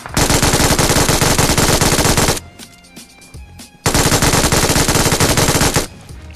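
Automatic gunfire in the BGMI battle game, aimed at a Dacia car: two loud, sustained bursts of rapid shots with a short quieter gap between them, close and dense with no talk.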